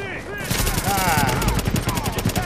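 Rapid gunfire rattles loudly and continuously in The Division, rounds striking the player's character in a dense, chaotic barrage, with a voice briefly audible under the shooting.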